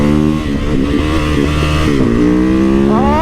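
A 2024 KTM 690 SMC R supermoto engine revs hard and loud up close, its pitch rising and falling through several throttle blips before climbing steeply again at the end.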